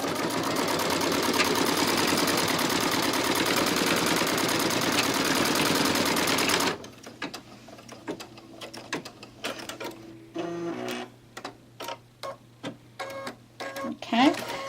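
An embroidery machine stitches a wristwatch design for a pincushion, giving a loud, rapid, steady whirring chatter for about seven seconds. It then stops, leaving scattered clicks and handling noises.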